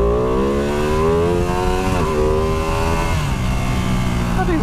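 A Ducati Panigale V2 motorcycle engine pulls hard on a wet ride, its loud, steady tone climbing in pitch as it accelerates, dipping briefly at a gear change and then rising again, with constant wind rush.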